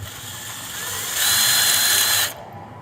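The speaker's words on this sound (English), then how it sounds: "So I'm going to try to drill through this and not hit the wires." A power drill bores through a pinball machine spotlight housing, a whining buzz that swells louder midway as the bit bites in, holds steady, then cuts off abruptly into quiet.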